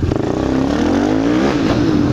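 A YCF dirt bike revs hard indoors in a warehouse, its engine note loud and close, rising and falling with sustained throttle and no talking over it.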